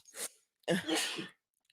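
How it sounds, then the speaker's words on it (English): Two bursts of a sneeze in a podcast studio, a short sharp intake followed by a louder, longer explosive burst, close to the microphone and with no talk over it. "My apologies for sneezing on the track."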